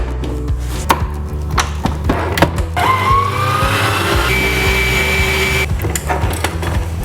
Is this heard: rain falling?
no